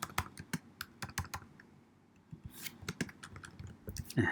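Keys clatter on a computer keyboard as a username is typed into a web form, a quick irregular run of close, crisp clicks with a short pause midway and a sharper burst near the end.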